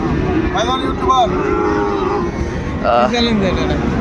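A Sahiwal bull calf lowes several times at a busy cattle market in Dinajpur, short nasal moos standing out over crowd noise and nearby voices.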